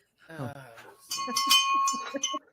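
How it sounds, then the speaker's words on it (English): A small hand bell rings out clearly with a bright sustained tone, struck a few times in quick succession right after a brief burst of nearby talk, during an outing where wallabies are nearby. "Where's the bell? Did you get the bell back, Keith?"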